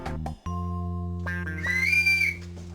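An old little whistle, an antique found in a house, blown in a long steady tone that briefly shifts and rises into a shrill warble, close and clear with no talk.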